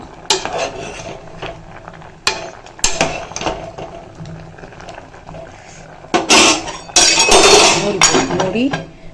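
Vegetables being stirred in a metal cooking pot for a mixed-vegetable kuzhambu, with loud clanks and metallic clinks of a ladle against the pot in irregular bursts, scraping, and a voice talking between strokes.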